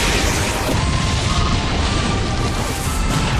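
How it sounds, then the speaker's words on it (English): A Pokémon's Explosion move in Pokémon Battle Revolution: a dense, roaring blast that fills the whole clip with a loud, steady rumble and crash, no talk. "Annihilated by explosion!"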